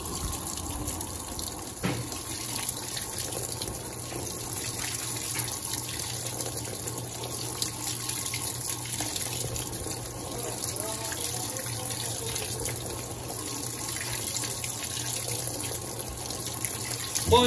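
An Electrolux Turbo Acqua Jet 15.2 kg direct-drive washing machine fills with water for the rinse, a steady rushing flow that continues unbroken from start to finish with a faint low hum beneath.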